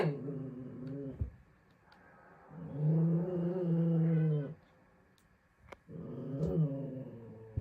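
A dog growls close by in long, low, rumbling spells separated by short gaps, with brief clicks and knocks between the growls.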